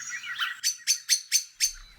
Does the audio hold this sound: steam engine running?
no